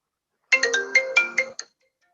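A phone ringtone plays during a panel discussion on the COVID-19 vaccine: a short, clear electronic melody of about six quick tones lasting around a second, loud and alone against silence.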